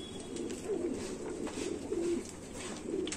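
A home-bred pigeon coos in quiet, repeated low murmurs against faint background noise, with no talk over it.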